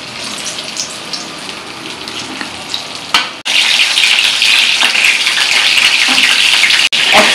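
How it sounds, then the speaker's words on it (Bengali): Stuffed pointed gourd (potol) frying in oil gives a loud, dense, continuous sizzle with a few clatters, briefly breaking off twice before hissing on strongly. "পটলের পুরো ভরা হয়ে গেছে, এখন আমি এটা ভেজে নেব।"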